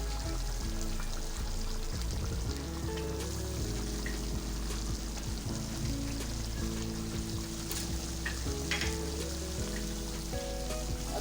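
Chicken karahi masala with green chillies and ginger fries in a pan in a restaurant-style butt karahi, giving a soft continuous sizzle with light crackles and a low steady hum beneath.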